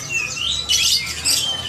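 Parakeets at a crowded bird market give harsh, high squawks and chirps in two louder bursts over steady background chatter of other birds.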